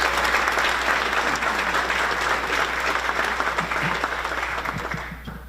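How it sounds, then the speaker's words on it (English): Audience at a chamber of commerce annual meeting and awards event gives a sustained round of loud, dense applause that tapers off near the end. "Let's give her another round of applause."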